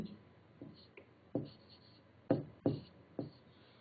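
Pen writing an answer by hand on paper, a series of soft separate strokes and taps, quiet and close, with pauses between them.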